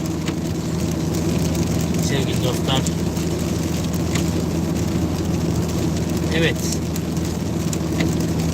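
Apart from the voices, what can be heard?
rain while driving a car on a wet road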